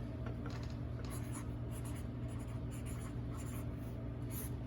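A marker is drawn across paper in a steady, continuous scratchy squeak, close and fairly quiet, with no talking.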